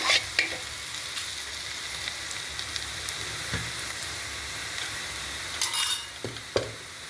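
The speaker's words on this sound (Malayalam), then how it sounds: "ഉള്ളി ക്യാരറ്റ് എല്ലാം കൂടി മിക്സ് ചെയ്യാം നല്ലപോലെ" Onion and carrot stirred together in a hot pan for chicken biryani, a steady sizzle and frying hiss running throughout with a few louder scrapes and clinks of a spoon near the end, no voices.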